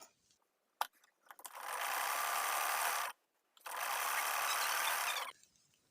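A sewing machine stitching lace onto fabric, running in two long steady bursts with a short pause between them, close and loud with no talk.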